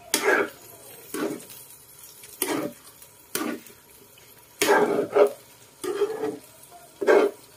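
Dinuguan, a pork blood stew, is stirred in a pan, giving repeated short scraping and sloshing bursts at an uneven rhythm, close and moderately loud, with faint sizzling between strokes.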